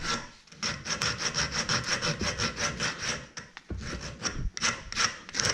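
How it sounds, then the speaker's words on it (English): A wooden musky lure body is sanded by hand in rapid, rhythmic back-and-forth rasping strokes, close and steady for several seconds with one short pause. "All basically just kind of sanding it and refining it, making it all nice and smooth."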